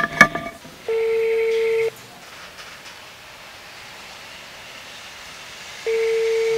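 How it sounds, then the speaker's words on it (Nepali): Telephone dialing tones on a phone call, a short click and then two steady beeps separated by a long quiet gap. "अब मैले ठ्याक्कै फोन गर्दैछु उहाँलाई है त"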